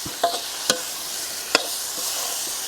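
Eel stir-fried in a pan with spices gives a constant close sizzle, broken by a few sharp clacks of a spatula against the pan.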